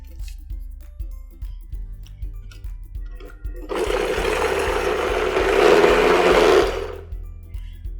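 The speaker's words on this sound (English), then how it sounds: "I'm just going to go ahead and cover it and blend." A mixer grinder blends cheesy tomato sauce in a covered jar, a loud whirring roar lasting about three seconds after a stretch of soft background ticking.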